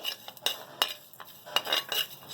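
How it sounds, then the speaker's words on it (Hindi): Spices roasting in a pan as a spoon stirs them, giving a few sharp metallic scrapes and clinks at irregular intervals, close and fairly loud. "मसाले हम थोड़े से भून लेंगे"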